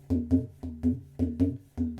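Mridangam, the Indian barrel drum, struck near the player in a quick series of about eight strokes. Each stroke has a bending, wobbling pitch that sounds almost like a voice talking, and the strokes come in an uneven, lively rhythm.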